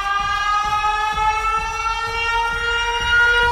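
A siren from the horror video game Siren Head wails as a sustained, droning tonal blare with pulsing low thumps underneath, loud and continuous with no voices over it.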